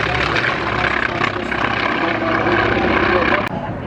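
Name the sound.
North American airplanes flying past at air show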